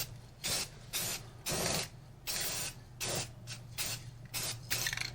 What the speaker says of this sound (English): I don't want to spray too heavy anyway